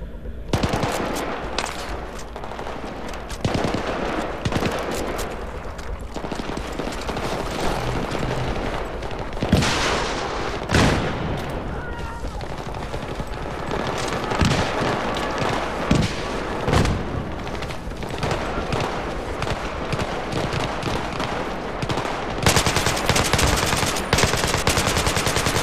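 Automatic rifle fire in Battlefield 3 multiplayer, loud and almost continuous, with rapid bursts and repeated cracks of gunfire layered with other weapons and booms across a busy battlefield.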